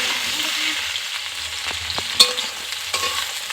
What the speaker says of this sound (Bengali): সিম, গাজর, বিনস, এগুলোকে একসাথে আর একটু ভালো করে ভেজে নেব